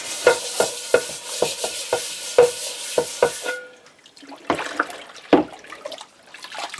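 Stainless steel scrubber rubbing on a cast iron pan in water, a run of sharp rhythmic scraping strokes followed by a few slower, wetter scrubs and sloshing, close and fairly loud.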